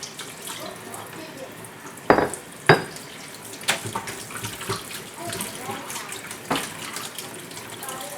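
Water runs from a kitchen sink faucet in a steady close splashing stream, with a few sharp clinks of dishes.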